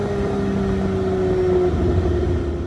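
A classic Mini fitted with a 500hp engine roars loudly and steadily at high revs from inside the car, with a droning tone that barely changes.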